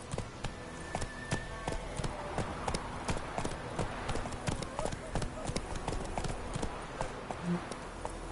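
A horse gallops in The Witcher 3 game, with rapid rhythmic hoofbeats clip-clopping steadily throughout, close and clear over a faint ambient bed.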